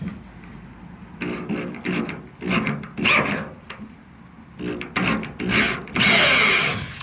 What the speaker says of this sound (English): we're just going to get a plug-in drill so it'll be more powerful